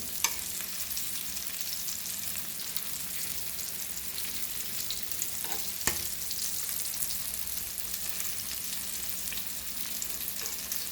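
Rava-coated mackerel shallow frying in a pan, a dense continuous crackling sizzle with a couple of brief knocks, no voices.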